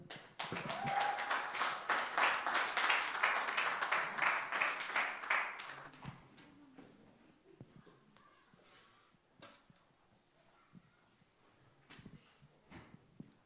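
A church congregation applauds a speaker being introduced at a sermon, steady clapping for several seconds that then thins out and fades into faint, scattered room noises.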